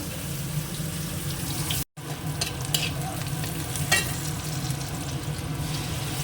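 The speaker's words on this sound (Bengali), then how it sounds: "তেল গরম হয়ে গেছে পেঁয়াজটা একটু ভেজে তার মধ্যে পোস্তটা দিয়ে দেবো" Onions fry in hot oil with a loud, constant sizzle while a spatula stirs and scrapes the pan, the sound cutting out for a split second partway through.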